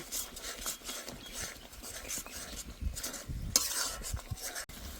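Shrimp paste masala with coconut paste being stir-fried for a potol chingri curry: a steady close frying hiss with scraping stirs and occasional spoon knocks against the pan.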